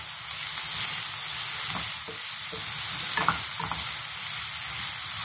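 Onion and garlic paste frying on full heat in a pan, a steady loud sizzle with a few soft stirring scrapes and clinks near the middle, close up with no talk.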